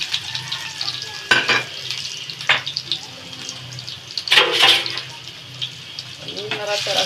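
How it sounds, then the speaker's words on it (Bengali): Chopped garlic fries in hot oil with a steady sizzle, and a few sharp scrapes and clinks come from stirring in the pan. A few soft sounds from the kitchen come in alongside it. "একটা রসুন কুচি করে নিয়েছি, এটা আমি তেলের মধ্যে দিয়ে দেব।"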